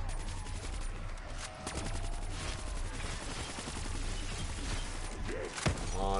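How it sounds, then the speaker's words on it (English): Rapid gunfire and headshot hits in Black Ops 3 Zombies on the Revelations map, a dense, continuous burst of game shots with a sharper impact near the end. "the sound of headshots."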